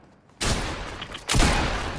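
Two sharp gunshots sound in the video game Fortnite, loud and close, the second coming about a second after the first, with no talk.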